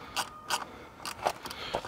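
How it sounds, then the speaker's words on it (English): Wrench tightening the last lower nut and bolt on a Honda CB1000R belly pan, a series of short clicking ratchet strokes in an uneven rhythm, close and fairly quiet. "the last nut and bolt we'll need to tighten is this lower"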